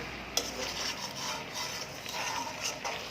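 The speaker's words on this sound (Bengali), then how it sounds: "গরুর মাংস দিয়ে রান্না করা হচ্ছে।" Beef kala bhuna cooking in a pot, a steady close sizzle and bubbling with scraping stirs and a sharp metallic clink near the start.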